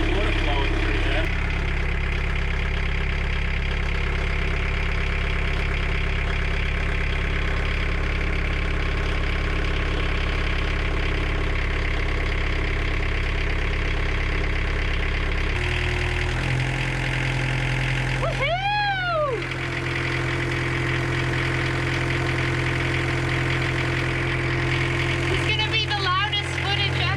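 A boat engine drones and idles steadily for a long stretch, its pitch shifting partway through, while a person speaks briefly over the engine.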